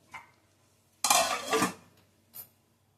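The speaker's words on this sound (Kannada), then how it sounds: "ನೋಡಿ ಲಿಡ್ ಓಪನ್ ಮಾಡ್ತಾ ಇದ್ದೀನಿ" A metal lid comes off a pot of simmering dhaba-style palak paneer curry with a soft clink, followed by a brief scrape and a faint later tap, close and quiet.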